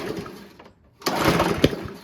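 A Honda HRR216 Harmony II lawn mower, on choke and primed with starter spray, being pull-started on its short rope: two rough rattling bursts of the recoil and the engine turning over, separated by a quiet gap.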